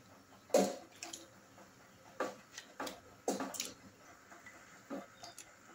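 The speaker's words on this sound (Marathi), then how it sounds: "नितरून घेतलेले वेफर्स आपण याच्यात टाकू" Drained potato wafer slices tumble into a pot of boiling salted water, a few soft splashes and plops spread over several seconds against a steady bubbling hiss.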